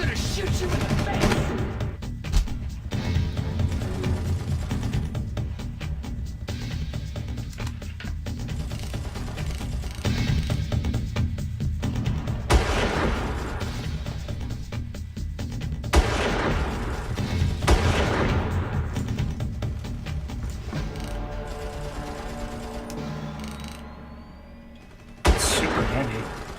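Gunfire rattles through a round of Far Cry Classic: repeated sharp shots and bursts crack over a constant loud battle din, with a heavy blast near the end.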